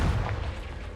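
A Confringo blast spell from Hogwarts Legacy sounds as one loud, low, rumbling explosive boom that fills the full second and decays slowly, with no voices.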